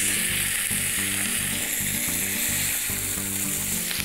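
A salmon fillet searing in a hot pan, with a continuous, loud, even sizzle of oil holding steady throughout and no voices.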